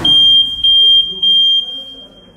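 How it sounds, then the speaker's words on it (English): Loud electronic buzzer sounding during an interview at a boxing venue, three sharp high pulses in quick succession, close and piercing, with a faint voice underneath. "because of the noise from the buzzer"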